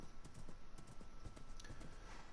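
Hooves clip-clop steadily as a horse walks in the Minecraft video game, a quiet, even patter of light taps under a faint background hum.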